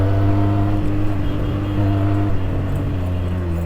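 Steady loud motorbike engine drone on a road near Kathmandu, an Xpulse 200 or Benelli TNT 300 riding along as another vehicle overtakes, with constant low hum and wind rush throughout, no talk.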